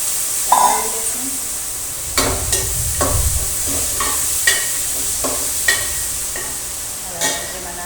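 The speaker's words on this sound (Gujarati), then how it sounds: "ત્યારબાદ ડુંગળીને બટેટા નાખી દઈશું અને બરાબર તેને ચલાવી દઈશું." Onions and potatoes fry in a pan with mustard seeds, cumin, asafoetida and curry leaves, a steady loud sizzle broken by repeated spoon scrapes and stirring knocks.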